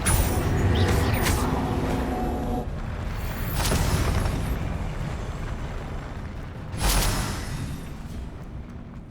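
Confringo blasting spells in the video game Hogwarts Legacy: loud booming explosions with rushing, crackling tails, one early, one mid-way and another near the end, over a continuous rumbling game background.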